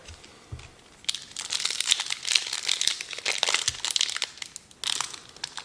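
A Kaldheim trading card pack's foil wrapper crinkles and crushes up close in dense bursts of rustling and crackling, starting and stopping as it is handled and pulled open, with no talk over it.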